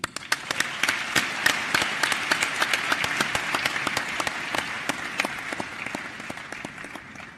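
A summit audience at the Youth Connekt Africa Summit 2017 claps after a speech, individual claps sharply distinct in a brisk, fairly sparse rhythm that stays steady, moderately loud, with no talking over it.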